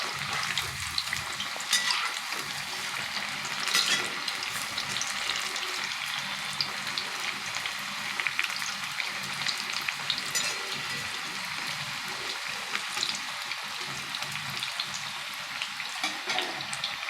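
Onion fritters (piyaji) sizzle in hot oil, a dense steady crackle close by with occasional scraping and stirring noises.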